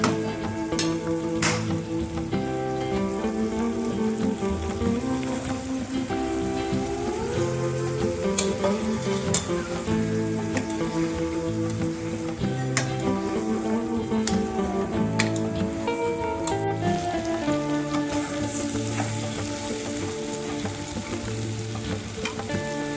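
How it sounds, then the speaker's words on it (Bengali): Spice paste and poppy seeds frying in a pan with a steady sizzle and light stirring throughout, with soft music playing underneath. "এবার আমি মশলাটা ভালোভাবে একটু কষিয়ে নেবো, আর পোস্তটা একটু ভাজা ভাজা করে নেব।"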